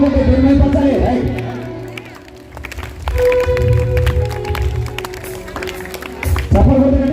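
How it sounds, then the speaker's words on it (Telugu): A church congregation at a Holy Mass feast claps along in the middle stretch, quick sharp claps mixed with crowd noise, framed by loud singing voices at the start and end. "హల్లెలూయా, చప్పట్లు కొట్టి దేవుడు మహిమపరచాలి."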